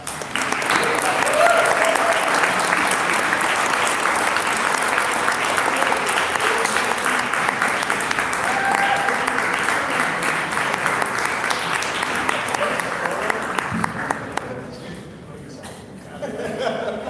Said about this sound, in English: Congratulations, big round of applause.